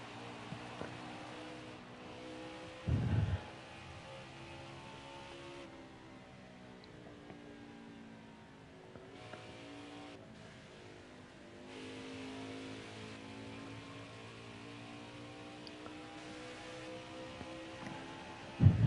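NASCAR Xfinity Series race cars at an Arizona race accelerate down the back straightaway with a steady, loud engine drone and rising harmonics, broken by brief heavy thumps near the start and end, with no talk.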